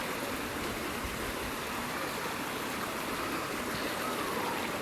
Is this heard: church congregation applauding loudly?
no